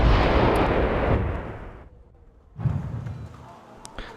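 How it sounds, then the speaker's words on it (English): T-62 tanks and BMP vehicles fire in a Wargame: European Escalation battle, loud booming blasts and rumbling cannon fire that fade into a short lull, then resume with further heavy shots. "once 3 T-62s plus BMPs start firing at it"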